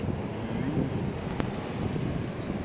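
Wind and sea waves at a beach, a steady broad rushing wash with wind buffeting the microphone throughout, no clear separate wave breaks.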